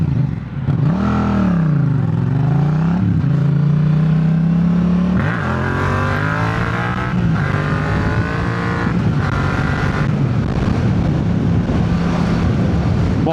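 Yamaha MT-07 motorcycle engine revving hard during a wheelie, with loud, close, rising and falling throttle swells, a sustained high-rev pull and repeated gear-change surges over wind noise.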